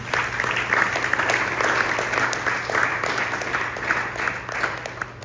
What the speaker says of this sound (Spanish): Den un aplauso al Señor en nombre de Dios.